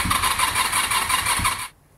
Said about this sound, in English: it's a vacuum fuel pump, so it does take a bit of turning over before it'll start.